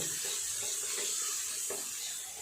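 Ginger paste is stirred and fried in a pan for khichuri, producing a brief, faint sizzle with soft scraping stirs and no talking.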